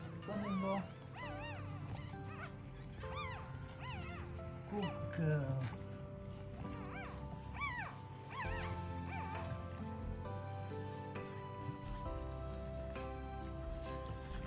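Newborn French bulldog puppies with their mother, giving repeated high whimpers and yips close by, rising and falling in short bursts over a steady low background, with soft whining throughout and no clear speech.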